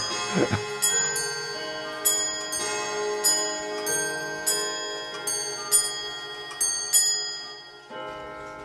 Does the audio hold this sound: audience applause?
no